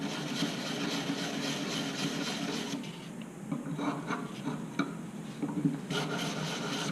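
A small metal jewellery piece is hand-sanded, held in the hand rather than against a bench pin, giving a soft, steady, close scratchy rubbing that pauses briefly and then resumes.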